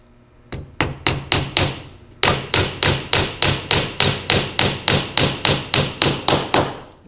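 Repeated hammer blows drive a nail into a wooden speaker cabinet: a brief pair of strikes, a pause, then a steady run of about sixteen loud, evenly spaced close thuds with no talking.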